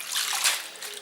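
Clean tap water runs into a kitchen sink for washing spinach, a steady bright splashing rush that stays fairly loud and continuous throughout the short stretch.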